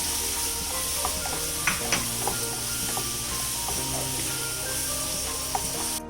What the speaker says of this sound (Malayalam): ഫ്ലേവറിന് വേണ്ടി നമുക്ക് നല്ലതായിട്ട് ഇതിനെ വഴറ്റിയെടുക്കാം.